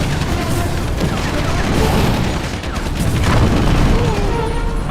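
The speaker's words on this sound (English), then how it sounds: "Guardian tank good to go. Commence firing!" Guardian tank cannon fire in the strategy game Red Alert 3, heavy booming shots and bursts layered over a dense, continuous battle din, loud and close throughout.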